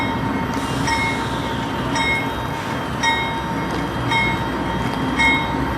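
Norfolk Southern locomotive 4055 throttles up with a dash 9 unit behind it, a heavy diesel rumble with rhythmic clicking wheel sounds repeating about once a second, fairly loud and close.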